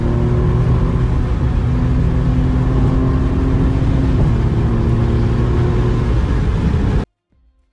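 A car speeding through town at around 200 km/h, its engine and road roar sustained loud and steady, then cutting off abruptly near the end.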